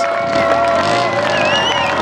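Spectators at the Andler hillclimb car race in 2022 cheer, whistle and applaud in a loud, dense roar that holds steady throughout, with excited shouting mixed into the crowd noise.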